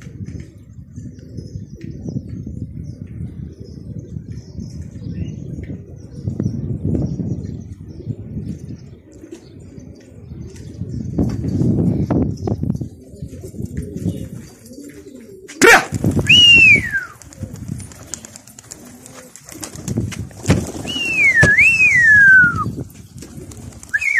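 Pigeons around a hunting spot, with low rustling and wing flutters, then a few clear sliding bird calls standing out close by over the background noise.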